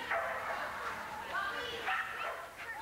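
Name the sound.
dogs barking at an agility competition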